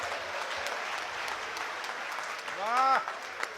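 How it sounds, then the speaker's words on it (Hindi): Audience applause at a stage gathering in Hindi, with steady, dense clapping that swells toward the end as a voice briefly rises over it. "तालियां एक बार मिलकर बजा दीजिए जोर से।"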